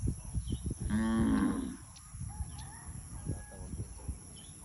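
A carabao (water buffalo) lets out a single drawn-out low bellowing call of about a second, fairly close, amid quiet Tagalog conversation and farmyard background noise.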